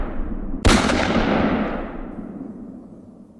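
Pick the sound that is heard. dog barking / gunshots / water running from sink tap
gunshots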